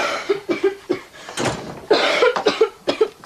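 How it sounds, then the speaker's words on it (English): A woman coughs repeatedly in harsh, rasping bursts, close and fairly loud, with short pauses and throat sounds between the fits. "That's a nasty cough."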